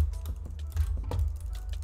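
Rapid clicking keystrokes on a new computer keyboard during Minecraft HCF PvP, a busy uneven patter of taps over a steady low hum, fairly close and alone.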